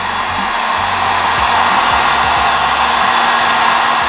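A heat gun blows hot air onto vinyl wrap on a motorcycle, a loud continuous fan whine and airy hiss held steady without pause.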